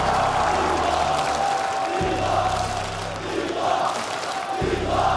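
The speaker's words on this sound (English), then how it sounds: "Continuez d'applaudir Hydra, s'il vous plaît" A large crowd at an esports tournament for Call of Duty Black Ops 7 finals in Paris roars and cheers continuously, loud and dense, with low rumbling bursts of noise rising and falling underneath.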